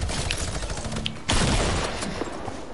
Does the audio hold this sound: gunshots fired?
yes